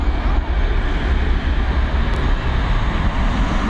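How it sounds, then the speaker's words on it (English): An Embraer E190 jet departs Dublin Airport in the evening with a loud, steady, broadband engine roar that holds at a constant level throughout. "an Embraer E190 heading over to London City."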